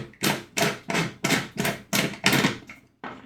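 An Eclatec Astec 83 street lantern is opened with a screwdriver: seven or eight sharp, evenly spaced knocks and clacks ring out close by, then a pause and one more hit at the end, no talk.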